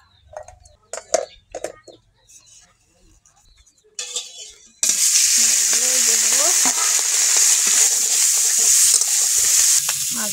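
Small mourala fish fry in hot oil in a wok: a few scattered clinks and quiet kitchen noises, then a loud, sustained sizzle suddenly takes over and hisses steadily to the end.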